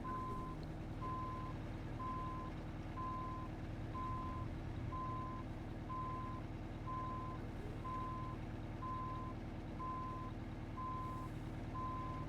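Scania R4 truck backing up a trailer in American Truck Simulator, with steady, evenly spaced reversing beeps over a constant low engine rumble, continuous and clear.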